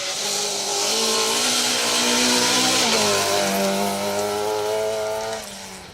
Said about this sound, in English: And 1400 MGZR. Sounds throaty for 1400, doesn't it, that?